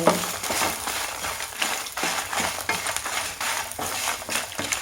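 Okra (ladies finger) frying in a pan for Mangalore-style bendekai pulimunchi: a steady sizzle runs throughout, broken by repeated scraping and clinking as a utensil stirs against the pan.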